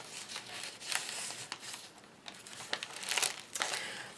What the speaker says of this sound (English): I just kind of cut out a mitten right here, just cut it out.